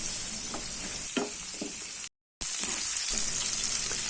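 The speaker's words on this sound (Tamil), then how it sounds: "பெருங்காய பொடி போட்டு ஒரு 1 நிமிஷம் வதக்கிக்கலாம்" Garlic, shallots and asafoetida powder sautéing in a pan, a steady close sizzle with a few soft stirring scrapes, broken by a brief silent gap partway through.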